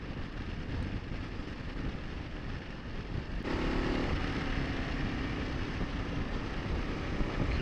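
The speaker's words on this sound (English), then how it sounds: "Good engine braking on this thing though" A 2025 Kawasaki KLR650 motorcycle engine braking on the road, a continuous throbbing engine drone mixed with wind rush that steps up in level partway through, close and steady with no talk.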